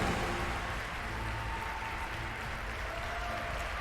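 At the TI10 esports tournament, an arena crowd applauds in a steady, distant wash of clapping and cheering that holds at an even level throughout.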